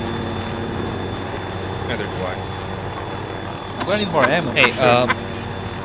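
A helicopter flies in the video game Arma 3, its rotor and engine droning steadily under players talking over radio chatter.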